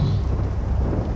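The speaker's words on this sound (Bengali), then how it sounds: "ঝড় বৃষ্টি কিছুটা ধরে এলেও মেঘের ডাক যেন আরো ভয়ঙ্কর হয়ে উঠেছে" Thunder rumbling through a stormy night in a dramatized scene, a brief deep low roll that stays heavy and steady for about a second, close and full without any voices.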